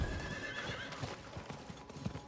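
A horse mount gallops in a fantasy video game, rapid hoof clip-clops with a whinny, fairly faint and steady under quiet game ambience.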